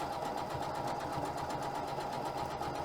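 A sewing machine runs steadily while sewing a decorative stitch beside a zipper, giving a continuous, even mechanical whir and hum from close by with no pauses and no talk.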